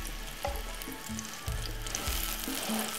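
An egg fries in a generous amount of hot oil for a breakfast taco wrap. The sizzle runs steadily underneath, with short low knocks and scrapes from turning the egg, and nobody speaks.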